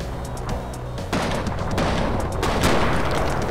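Gunshots in Cortex Command ring out in a loud, close volley: a sharp crack starts it, then further shots and booms pile into a dense, rumbling barrage with no one talking.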